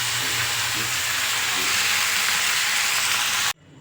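Garlic fries in a pan for an idli chutney. It gives a loud, close, continuous hissing sizzle that cuts off abruptly just before the end, with no voices.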